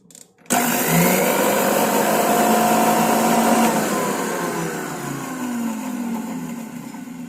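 A mixer grinder grinds curry leaves for a homemade hair dye. After a brief pause it starts abruptly into a loud, close, whining roar that holds steady and eases slightly toward the end.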